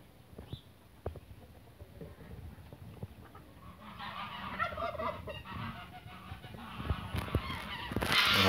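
Geese honk repeatedly on a farm where ducks are feeding and geese sit brooding, the calls close and growing louder and busier toward the end, with no talk.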